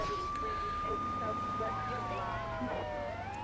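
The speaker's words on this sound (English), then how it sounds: "We can also use our sirens to get everybody else out of the way." A fire truck siren in Grand Theft Auto III wails with a long, sliding tone over a steady engine rumble and traffic noise in the game, while a person talks over it.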